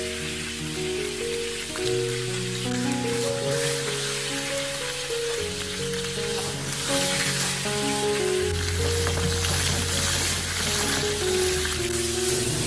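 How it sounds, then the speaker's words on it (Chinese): Fish pieces fry in oil in a pan with a continuous, even sizzle like light rain, heard under steady background music. "将鱼块煎至4面金黄就可以了。"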